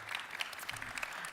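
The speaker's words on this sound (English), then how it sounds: "Let's give us a round of applause." Brief, moderately quiet applause from an audience at a smart parking management summit session, steady scattered clapping with no voices.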